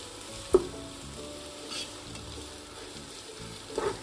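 Chopped ginger and garlic sizzle gently in a pan while being stirred, a soft steady frying hiss broken by a couple of sharp scraping clinks of the utensil near the start and end, heard without any talk.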